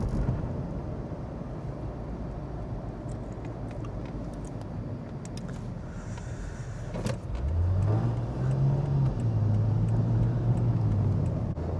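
A 2009 all-wheel-drive Lexus IS250 driving along a road gives a steady low rumble of engine and tyres that swells louder partway through, with a faint tonal hum and no talking.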